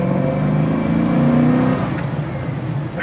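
The engine of a 1971 Chevy Nova restomod with a manual transmission revs and pulls as the car drives, a close, rising and falling rumble heard from inside, no speech.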